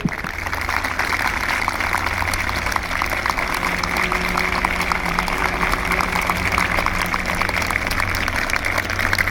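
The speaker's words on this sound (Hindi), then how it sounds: "तो आप सबकी जोरदार तालियों की बरसात हो जाएगी" Sustained applause from an audience at a school career guidance seminar, a dense, steady wash of clapping at even loudness throughout with a low hum underneath.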